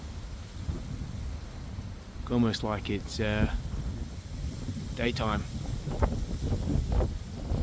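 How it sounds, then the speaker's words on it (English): Strong gusting wind outdoors at night in Melbourne, buffeting the microphone with low rumbling roars that rise and fall, while someone talks over it in bursts. "Very windy here as well,"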